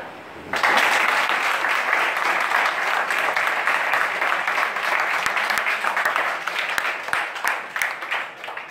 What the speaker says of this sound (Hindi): तो ताली बजाए